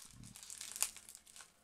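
Paper wrapping around a gift bar of soap from an advent calendar is crinkled and torn open by hand, a faint, close rustle with one sharper rip midway and no talking.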